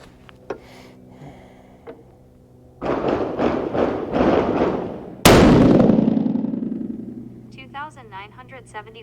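A single loud, sharp gunshot rings out and decays into a lingering echo during a test with a Garmin Xero C1 Pro chronograph, after a run of dull thumps, with a voice speaking nearby.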